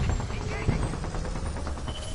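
Enemy gunfire in a video game crackles in rapid, dense bursts close by, with rumbling background noise and voices talking over it.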